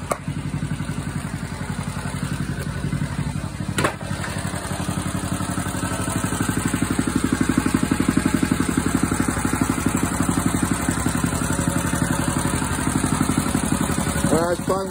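An engine idles steadily at close range, a constant low chugging hum with a sharp click partway through.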